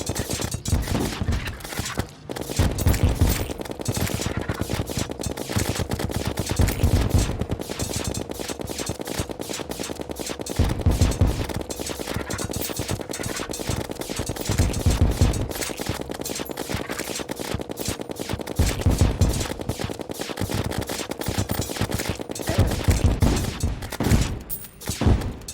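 In Terraria, cannon fire strikes the player character in a rapid, continuous barrage of sharp impacts. Heavier thumping bursts recur every few seconds through the dense, loud volley.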